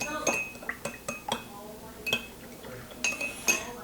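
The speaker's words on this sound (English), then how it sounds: "So stir it up, beat it up, put some air into that" A metal spoon stirs and beats Vietnamese coffee in a glass, striking it in quick uneven clinks and taps, close and bright, with a voice talking over them.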